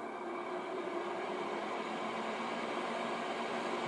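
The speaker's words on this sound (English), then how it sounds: "You can hear the fan cutting on right now." A cooling fan runs during a high-voltage multimeter test, giving a faint, steady whooshing hiss with no distinct onset and no voices.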